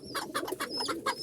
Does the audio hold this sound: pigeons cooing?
yes